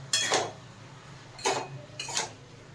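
A spoon stirs bottle gourd and potato poppy-seed curry in a metal pan, three short scraping clinks spaced about a second apart, close and moderately loud.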